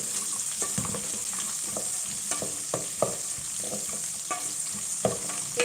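Small onions sizzling and frying in a pan for bisibelebath, a steady crackling hiss close by, with occasional stirring clicks and scrapes and no voices.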